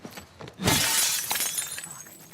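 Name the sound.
glass breaking in video game The Last of Us Part II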